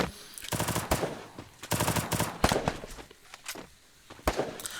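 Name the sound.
gunfire in a shooter video game, clash squad ranked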